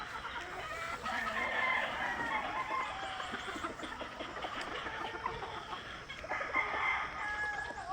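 A flock of chickens clucks and squawks continuously nearby, overlapping calls forming a busy farmyard chorus.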